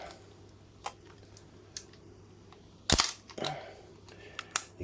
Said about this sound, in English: you can see how it just grabs the film and then just pulls it across